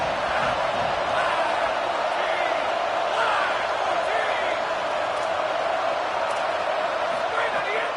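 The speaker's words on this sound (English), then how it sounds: "Decibels rising as the crowd gets behind this defense on third down." A football stadium crowd roars for the defense on third down, a loud, sustained wall of cheering and yelling that holds steady throughout.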